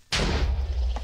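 A kamikaze monster explodes in the Minecraft map RagnaRune: a sudden loud blast that rolls on as a deep, rumbling boom for about a second, with no one talking.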